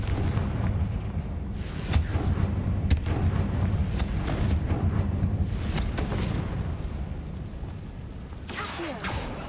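Confringo blasting spells explode in Hogwarts Legacy, several booming bursts spread over a loud rumbling game soundscape, some sharp and close, others rolling.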